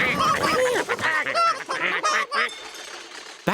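Ducks on a cartoon farm, unable to settle, give a busy run of honking quacks that overlap in a near, fairly loud flurry before breaking off into a brief quiet.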